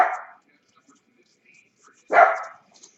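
A dog barks twice during a trading-card break, one short bark at the start and a louder one about two seconds later, with quiet gaps in between.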